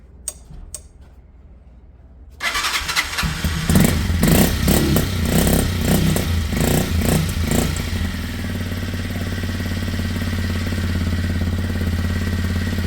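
Kymco Zing 125cc carbureted scooter with a running fault is fired up after a few faint clicks, then the engine catches and runs loudly up close with rapid ticking revs before settling into a steady idle.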